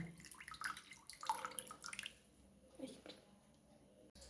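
Rosemary water is squeezed through a cloth, giving a few close wet squishes and splashy drips in short bursts, then a quieter stretch.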